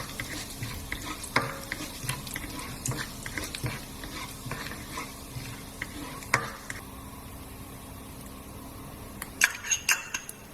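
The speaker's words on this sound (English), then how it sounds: "our cumin seeds, and just give that a little mix." Cumin seeds frying in a pan while a spoon stirs them, with scattered scrapes and clinks over a faint sizzle and a busier burst of knocks at the end.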